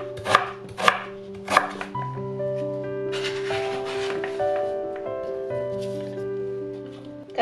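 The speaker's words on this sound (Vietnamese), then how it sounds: "Gừng, tỏi, ớt thì mình xay ra hoặc là bằm nhuyễn." A knife chops ginger, garlic and chili on a cutting board in a few quick, crisp strokes. Short bursts of chopping follow, with background music playing throughout.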